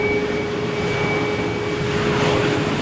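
A Lufthansa airliner taking off on a stormy morning at Malaga Airport, a loud steady roar of engines with a sustained whine, continuous and unbroken.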